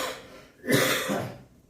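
One close, harsh cough from a person with a cold rises out of near silence, then trails off in a breathy rasp before the room goes quiet again.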